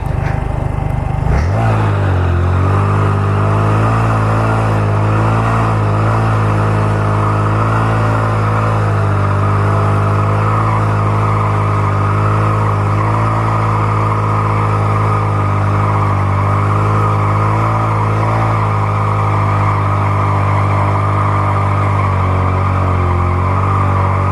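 A Honda Grom motorcycle engine revs hard and holds a loud, steady, droning roar through a rolling burnout. It starts abruptly after a brief moment and stays close and continuous throughout.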